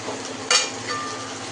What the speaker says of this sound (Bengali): এবার ক্যাপসিকামটা দিয়ে দেওয়া হচ্ছে।